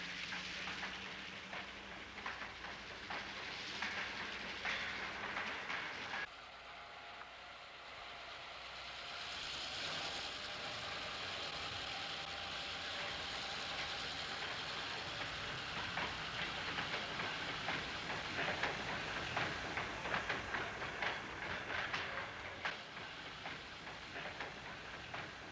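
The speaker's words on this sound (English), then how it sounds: "The colorful Santa Fe trains, like the Bulldog powering the Kansas Cityan as it leaves Streator," Santa Fe Bulldog diesel locomotive hauling the Kansas Cityan passenger train out of Streator, Illinois, a steady rolling rumble and hiss of moving railcars, sustained and moderately distant with no voices.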